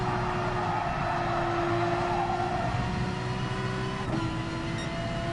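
Race car engine in the Gran Turismo Sport video game on PS4 Pro, a steady, fairly quiet droning hum with a sustained pitch that shifts slightly, heard alone without talk.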